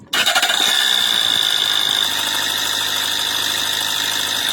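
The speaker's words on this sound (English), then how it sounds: "Now start engine again." An Opel car engine with leaking fuel injectors cranks and catches with an abrupt burst, then settles into a steady, close idle with a high whine above it.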